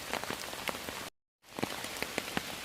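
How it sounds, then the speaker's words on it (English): Heavy rain drums on an Alpkit tarp in Sherwood Forest, a dense steady patter with scattered louder drops, broken by a brief moment of silence before the downpour resumes. "it's throwing it down with rain"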